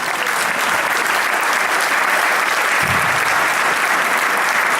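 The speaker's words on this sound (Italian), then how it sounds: "Applauso ai ragazzi." Sustained applause from a sizable crowd at a political rally in Albignasego, Veneto, Italy, dense and even throughout, with a few faint voices mixed in.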